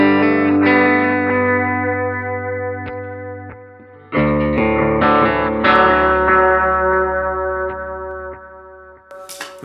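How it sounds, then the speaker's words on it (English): An electric guitar runs through a Line 6 Helix poly pitch effect set to drop five semitones for a baritone sound. Sustained, distorted chords ring out with shimmering pitch-shifted layers, then a brief break and a fresh strummed passage. "So we've set this thing up for minus 5. So that's what playing a baritone would be."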